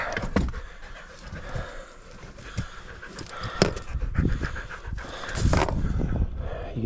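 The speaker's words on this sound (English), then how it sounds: "You can see the dogs." Huskies pant heavily and continuously close by, a rapid breathy rhythm with a few louder bursts and faint background knocks.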